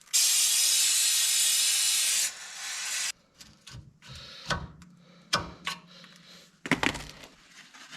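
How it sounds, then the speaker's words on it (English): Brake cleaner sprays in a loud, steady aerosol hiss onto a 1970 Oldsmobile Cutlass brake assembly for about two seconds, then a short second burst, followed by scattered clicks, taps and light handling noises. "I'm gonna move the rotor away while I use some brake clean to clean this up a little bit"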